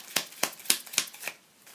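Playing cards from a Sentinels of the Multiverse environment deck are riffled, giving five quick crisp ruffling bursts at a steady pace, close and fairly soft, with no voices.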